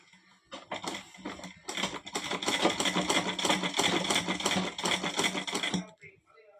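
Sewing machine stitching a pillow cover, a rapid mechanical clatter running steadily for several seconds at moderate volume, close by, with brief starts before and a stop near the end.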